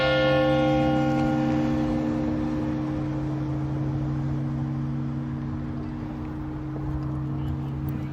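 A church bell rings out with a long, sustained hum of overtones that slowly decays and lingers as a fading echo over several seconds, heard alone.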